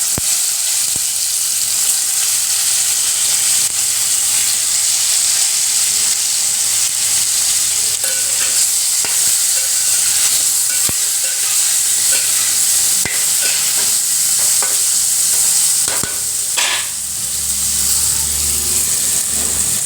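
Mustard seeds and cumin sizzle in hot oil for a brinjal curry, making a constant loud frying hiss with scattered faint crackles and pops, close and uninterrupted by speech.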